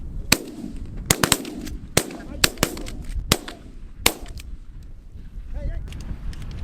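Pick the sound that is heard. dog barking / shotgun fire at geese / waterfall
shotgun fire at geese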